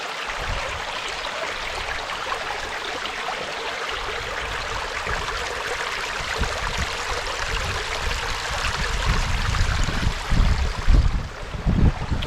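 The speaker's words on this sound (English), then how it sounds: "That's a lot of water coming up out of the ground." Rainwater seeping up out of the ground and running like a creek outdoors, a steady broad rushing wash of water that swells slightly toward the end with a few low thumps.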